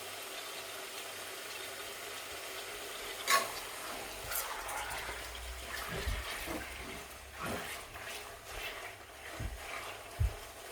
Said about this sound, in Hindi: हम उतनी देर तक इसको फ्राई करेंगे मीट को।